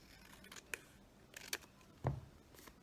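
Scissors trim the edges of a journal card, giving a few faint, sharp snips and clicks spread over a couple of seconds in a quiet room.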